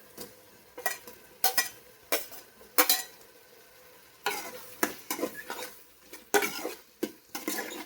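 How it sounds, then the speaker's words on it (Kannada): Mushrooms being stirred in a pan with garam masala for a quick mushroom biryani, giving repeated sharp scraping strokes of a spoon over a soft background sizzle, close and without speech. "ಅದಾದಮೇಲೆ ಈಗ ಮಶ್ರೂಮ್ಸ್ ತೊಗೊಂಡಿದ್ವಲ್ಲ ಅದನ್ನು ಹಾಕ್ತಾಯಿದ್ದೀನಿ"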